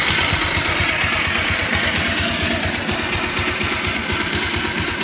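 A motorcycle engine idles steadily after a full carburetor cleaning, with a loud, even low chugging pulse running without a break and no talk over it.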